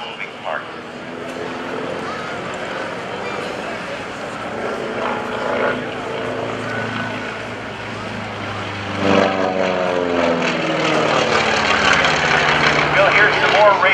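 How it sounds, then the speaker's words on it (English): An FM-2 Wildcat fighter's twin Wasp 14-cylinder radial engine, two rows of seven cylinders, gives a deep, throbbing growl at an airshow, rising noticeably louder partway through as the aircraft nears, while an announcer talks over it. "Very, very unique growl. It's a twin Wasp 14-cylinder radial engine, 2 rows of 7 cylinders."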